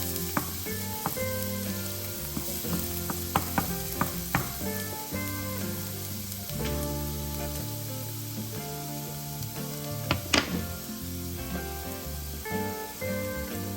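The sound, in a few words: minced garlic frying in olive oil in frying pan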